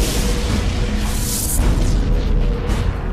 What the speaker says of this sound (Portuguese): Esses planetas devem ter se formado após a explosão da supernova.